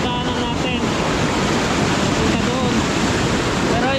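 A loud, continuous roar of rushing water close by, steady and unbroken from start to finish.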